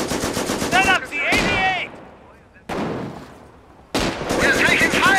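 Bursts of rapid machine gun fire in the Company of Heroes strategy game, loud and sustained rattling in separate runs with short gaps between, with voices shouting over parts of it.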